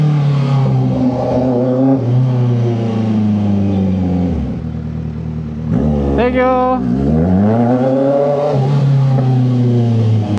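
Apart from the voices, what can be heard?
Kawasaki Z900 motorcycle full system exhaust revving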